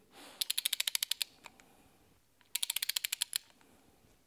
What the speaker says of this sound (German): Heute die Ratsche, von Experten auch Drehmomentschlüssel genannt. Und wir haben das Klick, Klick, Klick, Klick, Klick.